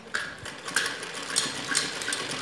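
Domestic sewing machine stitching fabric strips onto a baby frock, a close run of soft mechanical whirring with a few sharper clicks and starts, no voices.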